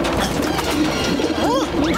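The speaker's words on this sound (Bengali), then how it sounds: "বাড়িতে তো পায়রাগুলো আমাদের থাকাই কঠিন করে দিয়েছে" Cartoon pigeons from the Motu Patlu animated series coo and flutter in a busy, loud scene, with a couple of rising warbling calls near the end.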